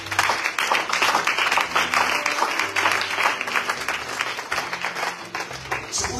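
A church congregation applauds to acclaim the Lord, a dense burst of clapping from a crowd that continues steadily throughout.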